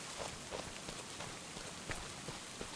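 Steady rain hissing over a surface in Farming Simulator 25, a soft even wash with scattered louder drops, fairly quiet and with no voices.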